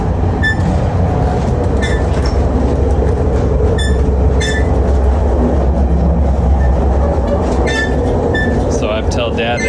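Loud, continuous rumble of a train racing along at about 90 miles an hour through snowy country, heard in the open gap between cars, with steady rattling, clacking and occasional metallic squeaks.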